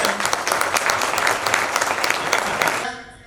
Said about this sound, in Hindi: आप बजाइए ताली